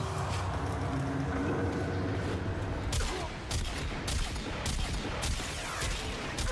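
Kuva weapon fire in the Warframe video game, a dense, sustained volley of shots over rumbling background, loud and continuous with brief gaps near the middle.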